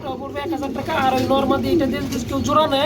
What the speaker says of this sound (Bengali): এখানে দেখতে পাচ্ছি আমরা তিন পিস কবুতর রয়েছে